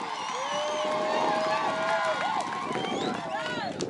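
A congregation at a Christian gospel seminar in Matui, Kiteto, claps and ululates in praise, with long high trilling cries rising over crowd noise and voices throughout.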